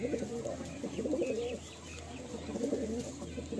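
Teddy pigeons in a loft at Pandua coo close by, soft repeated throaty calls in a steady rhythm with faint chirps in the background.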